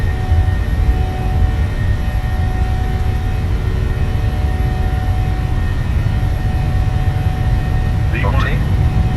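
Simulated jet engines of a PMDG 737-700 in Microsoft Flight Simulator hold takeoff power with a loud, steady roar and a low rumble beneath it. A short faint chirp sounds near the end.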